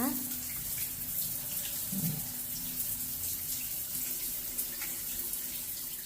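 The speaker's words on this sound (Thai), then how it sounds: "น้ำแรงใช้ได้เลยนะคะ" Shower water runs steadily in the bathroom of an RV park with full water and power hookups, a strong, continuous hiss that holds close and even throughout.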